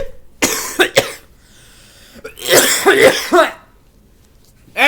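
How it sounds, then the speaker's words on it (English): A cartoon character from the animated series Jungle Junction coughs in a few sharp, raspy bursts separated by short pauses, followed by a final cough at the end. "what's up with the coughing?"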